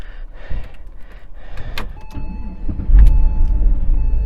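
A Porsche engine starts in a dealer auction lot, cranking briefly before catching into a steady, loud idle with low rumble, heard up close with no talking.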